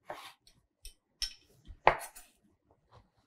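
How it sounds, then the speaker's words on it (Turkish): A knife chops celery into cubes on a cutting board in a few sparse, uneven strikes, quiet and close, with no voices. "Ve biraz iri küpler halinde doğrayacağım ve göstereceğim size kalınlıklarını."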